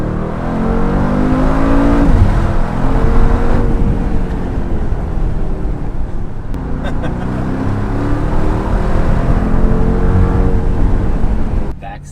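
A Mercedes G63 wagon with 664 lb-ft of torque accelerates hard at Pebble Beach, its engine a loud, steady low roar that climbs in pitch through repeated gear changes, with voices talking over it.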